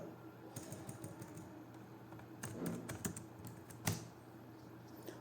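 Typing on a computer keyboard, a quiet scatter of light key clicks in uneven bursts, some clustered quickly together, with one sharper tap near the end.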